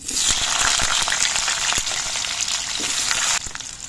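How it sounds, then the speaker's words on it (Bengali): Potatoes frying in hot mustard oil in a wok give a loud, steady crackling sizzle with scattered pops, easing slightly near the end. "সর্ষের তেলটা গরম হয়ে যাওয়ার পর এর মধ্যে আমি আলুগুলো ভেজে নিচ্ছি"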